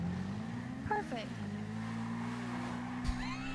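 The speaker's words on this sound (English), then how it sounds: "Well, that's a car." A car in a game scene, its engine humming steadily with a rising pitch and a short squeal, heard under background music and brief voices.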